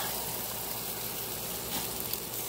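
Chicken thighs in sweet barbecue sauce sizzle on an outdoor grill, a steady broad hiss and crackle held at moderate level with no talk over it.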